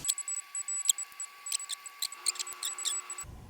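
A multimeter on a continuity test gives short, high, faint beeps in an irregular run, some close together and some spaced apart, against a quiet background with a steady low hum.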